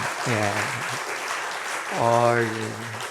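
A church congregation at a women's mission society worship service claps, steady applause running underneath while a voice speaks over it twice.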